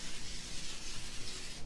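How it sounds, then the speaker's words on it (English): Olive oil cooking spray misted over keto fries, a soft steady hiss lasting under two seconds, close and fairly quiet, ending abruptly. "spraying it with a little bit of olive oil cooking spray"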